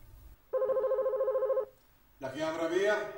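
A telephone bell rings in one loud, close electronic trill lasting about a second, followed by a voice speaking.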